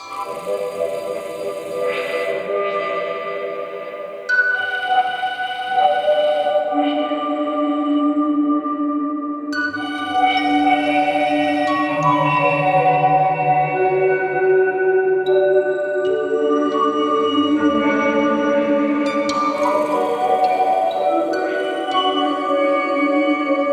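Bright plucked notes from a Bioshock-inspired kalimba sample instrument ring out in a slow, layered melody with long shimmering decay, steady and fairly loud throughout, no voices.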